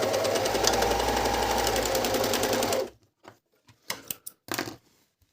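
A Brother-Medion MD10685 overlock sewing machine runs steadily and loudly for about three seconds, then stops, followed by a few brief clicks and short handling noises.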